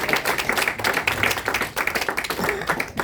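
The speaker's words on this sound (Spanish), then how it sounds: "Denle un aplauso al que viene." Audience applause at an evangelistic church service, a short burst of dense hand clapping close by that swells and dips for a few seconds.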